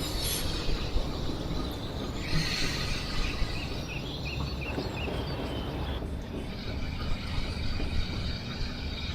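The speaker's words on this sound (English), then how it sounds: "This is what full loco brake service is" A locomotive in Train Simulator under full brake application gives a steady rumbling roll with high-pitched wheel and brake squeal that rises and falls across the span, fairly faint and with no talk.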